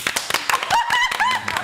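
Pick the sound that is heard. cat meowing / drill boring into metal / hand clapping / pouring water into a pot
hand clapping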